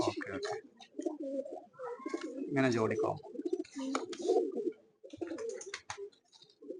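Racing pigeons coo in a loft, soft repeated throaty calls rising under and between close conversational talk.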